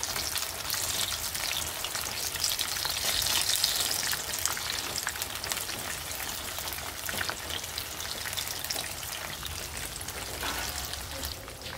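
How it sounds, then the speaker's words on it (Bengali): Marinated chicken pieces fry in hot oil in a kadai, making a loud, dense, continuous sizzle with fine crackles throughout and no voices. "তো আমি এখানে কড়াই তুলে দিছি, তেলটা গরম করে নিছি, নিয়ে আমি এক এক করে"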